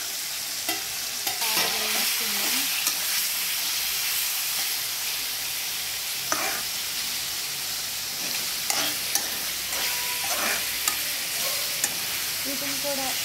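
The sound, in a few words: broad beans frying and sizzling in hot oil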